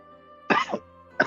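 Two harsh coughs, close and loud, the first a drawn-out double hack, the second short and sharp after a brief pause.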